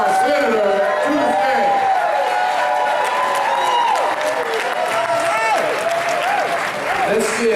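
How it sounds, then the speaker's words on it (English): Loud, sustained applause and cheering from a large crowd, with scattered whoops and shouted voices rising over the clapping. "Let's give our chair, Derek Parker, a round of applause for doing an extraordinary job."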